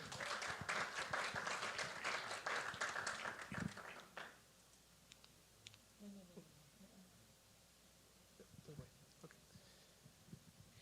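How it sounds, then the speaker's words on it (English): Audience applause at a Falling Walls Lab event in Ecuador, dense clapping for about four seconds that stops abruptly, leaving a quiet room with scattered faint knocks and movement. "Please welcome with a very big applause, Andre Mosquera."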